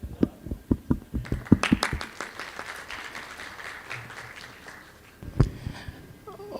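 Scattered claps grow into a brief burst of applause from a forum audience in Thailand, then fade out, with a final lone clap near the end.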